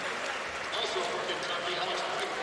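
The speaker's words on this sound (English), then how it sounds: "Dakari gets a nice round of applause for his performance" Arena crowd applauding at a college basketball game, Kentucky against UT Arlington, a dense continuous wash of claps and cheers filling the space, with speech mixed in.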